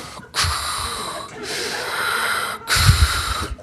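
Slow, heavy mechanical-sounding breaths in and out, a voice imitating a masked villain's respirator, three long rasping cycles.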